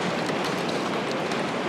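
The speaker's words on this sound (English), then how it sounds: "It's raining again." Steady rain pours down outdoors near a house with Douglas fir and cedar siding, a dense, even hiss with no pauses, fairly loud and close.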